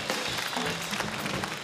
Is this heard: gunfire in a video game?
no